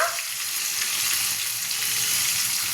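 Spices fry in oil with onions for a fish curry, giving a dense, continuous close sizzle with faint stirring underneath, loud and unbroken, with no voices.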